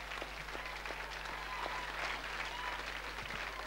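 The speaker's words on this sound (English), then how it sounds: "Give a round of applause, that's brilliant." Studio audience applause on a 1985 television music show, a steady spread of clapping with faint scattered voices, kept low and constant for the few seconds under a humming background.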